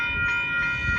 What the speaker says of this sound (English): we got Amtrak coming by